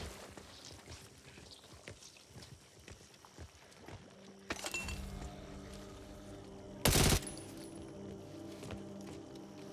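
A burst-fire gun goes off in the zombie shooter Back 4 Blood during the Garden Party chapter: two loud, sharp bursts stand out over an ongoing low clatter of action.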